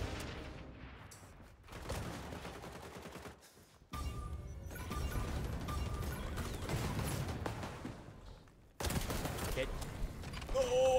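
Gunfire in the XDefiant video game, bursts of shots and impacts in several loud stretches separated by brief quiet gaps, with voices faintly underneath.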